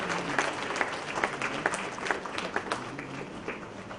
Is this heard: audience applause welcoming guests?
yes